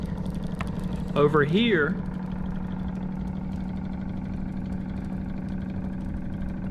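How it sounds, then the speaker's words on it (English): A small electric motor built in a class hums steadily and evenly at close range for the whole stretch, with a brief spoken phrase over it early on. "this is an electric motor that we built in class."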